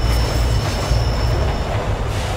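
In Pokemon Rejuvenation, a train ride rumbles steadily and loudly, with low rolling wheel noise and a faint high whine running over it, no talk.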